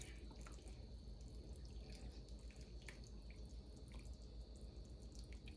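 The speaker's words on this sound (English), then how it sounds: "I'm gonna pour it in here. Pour the juice in here." A thin stream of blackberry juice trickles and splashes steadily into a pan, faint and close, with occasional drips over a low background hum.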